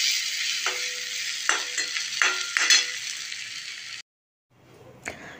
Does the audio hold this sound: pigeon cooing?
no